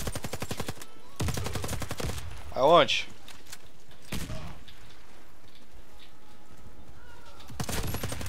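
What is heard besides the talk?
gunfire in a video game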